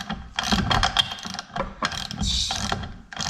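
A ratchet fitted with a 17mm socket is cranked to loosen the prop nut on a Lowrance Ghost trolling motor, making close, loud bursts of rapid clicking with brief pauses between strokes.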